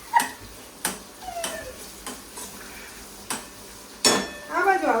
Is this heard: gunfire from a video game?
no